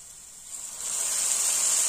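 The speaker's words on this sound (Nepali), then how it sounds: "अब मजाले फ्राई गर्नुपर्छ एकछिन, मसला काँचो स्मेल जाने गरेर।" Spices and Kashmiri chili frying in a pan for kulthi (gahat) dal, giving a steady, close sizzling hiss that swells louder partway through and carries on alone.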